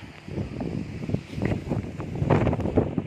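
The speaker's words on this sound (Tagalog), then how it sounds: "Malakas yung hangin." Strong wind buffets the microphone on a moving 2024 Rusi Flash 150 carburetor motorcycle, a steady, rough, rumbling roar that swells and fades across the whole stretch without pause.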